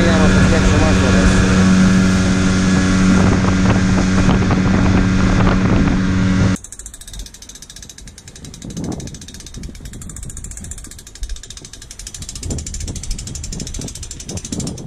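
A fishing boat's engine, which has a known fault, runs as a loud, dense mechanical drone, then drops abruptly to a lower, rougher rumble with voices talking over it.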